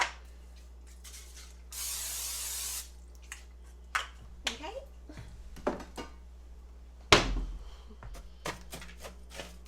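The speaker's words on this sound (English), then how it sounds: "I have a 9x13 glass casserole dish, and I'm just going to spray it." A short hiss of cooking spray onto a 9x13 glass casserole dish lasts about a second, followed by quiet clicks, taps and scattered handling noises in a still room.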